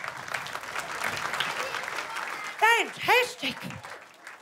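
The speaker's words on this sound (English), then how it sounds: "boys and girls, give yourselves a round of applause." A stand-up comedy crowd claps steadily for about two and a half seconds, a dense close patter of many hands, before a single voice speaks over the fading tail.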